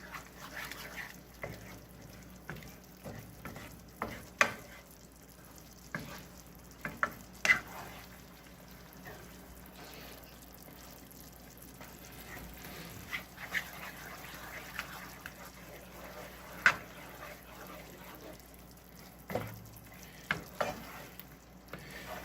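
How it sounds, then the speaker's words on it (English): Sausage dip stirred in a pot over low to medium heat, a soft steady scrape and sizzle with scattered clicks of the spoon against the pot, faint and close. "trying to keep it moving so you're not burning anything on the bottom of the pot"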